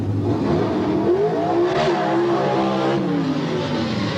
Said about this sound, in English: Roy Stavala checking the traction out on the start line